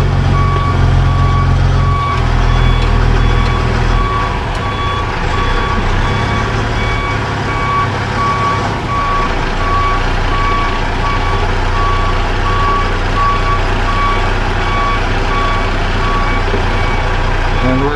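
Steady electronic backup beeps from a reversing tractor trailer truck repeat evenly over a loud, rumbling diesel engine idle, close and continuous throughout.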